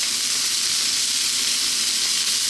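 Chili, garlic ginger paste and ground cumin, turmeric and coriander sizzle steadily in a hot pan, a dense continuous hiss with faint scraping as the mixture is stirred constantly.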